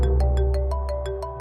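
A phone ringtone plays a repeating electronic melody, with regular chiming pulses roughly every fifth of a second, close and steady.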